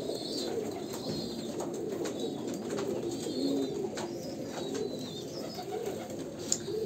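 A male Kalanka pigeon of Andhra pure bloodline coos in low, rolling phrases that repeat steadily and close by, with faint higher chirps from other birds in the background.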